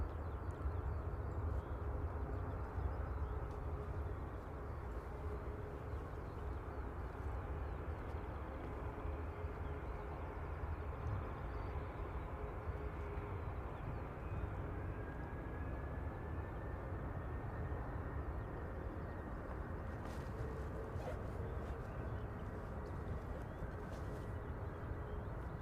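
A Jet2 airliner departs Manchester Airport bound for Pisa, its engines a continuous broad roar from a distance, steady and sustained throughout.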